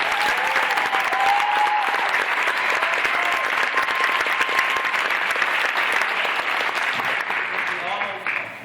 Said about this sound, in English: can we give another round of applause, please?